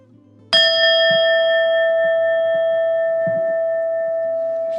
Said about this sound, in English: I'd like you at the sound of this bell